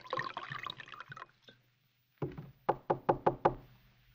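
Five sharp knocks on a door in quick, even succession, loud and close, after an earlier stretch of indistinct sound and a short pause.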